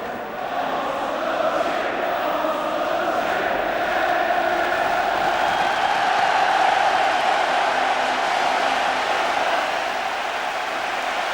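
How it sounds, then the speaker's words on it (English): A vast stadium crowd roars a welcome as the teams emerge for the 1982 FA Cup Final between Tottenham Hotspur and Queens Park Rangers, a steady, loud wash of cheering that swells slightly midway and never breaks. "as the vast crowd inside the stadium welcome the teams"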